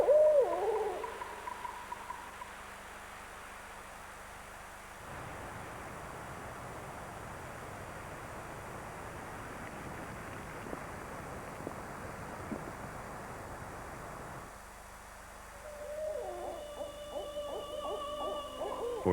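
Barred owl hooting in the northwestern boreal forest, a series of deep, rhythmic hoots carried over soft wind noise, fairly distant and clear with no voices.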